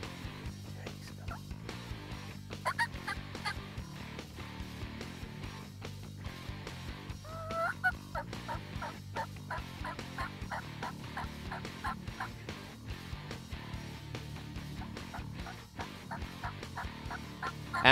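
Young wild turkeys (jakes) gobble outdoors in the morning, repeated rattling gobbles at moderate distance over a steady outdoor background, with no voices.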